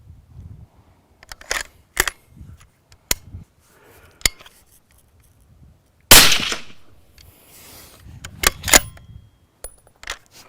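Suppressed rifle shots through a Griffin Armament Explorr suppressor firing a heavy, high-powder round: several sharp, close cracks spaced a few seconds apart, with one louder, longer blast near the middle, alone without talk.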